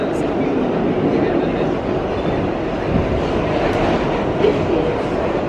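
A New York City subway train running, a steady, loud rumble of wheels and carriage noise that fills the whole stretch without letup, with faint clatter throughout.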